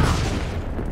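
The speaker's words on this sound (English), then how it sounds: "Grenade!" A grenade blast in the shooter Black Ops 3 booms loud and close, a dense low rumble filling the short moment without speech.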